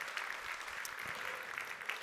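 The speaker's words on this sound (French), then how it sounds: "On peut les applaudir, toute l'équipe d'Orga et tous les partenaires." Applause at a gala for real estate directors, a soft continuous ripple of many hands clapping, fairly distant and quiet, with no one speaking during it.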